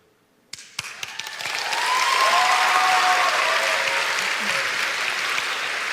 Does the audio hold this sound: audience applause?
yes